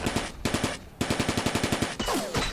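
Rapid machine gun bursts from a Vietnam War combat game mod, several short clusters of evenly spaced shots with brief pauses between, loud and close, followed by a rougher burst at the end.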